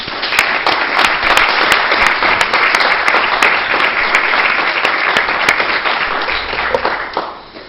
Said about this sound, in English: I want to give a big applause to them.